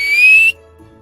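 A single clear whistle, one sustained rising tone held for about half a second, loud and close, then cut off into near silence.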